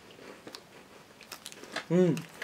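Crunchy Kit Kat-like biscuit with a crisp shortbread texture being bitten and chewed close up, a few faint crackles then one loud crunching bite near the end.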